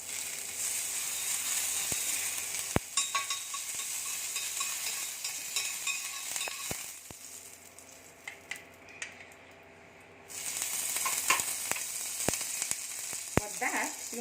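Butter sizzling on a preheated pan for toasting pav, a steady crackling fry close up with sharp ticks and pops scattered throughout, dipping quieter midway before the sizzle returns strongly.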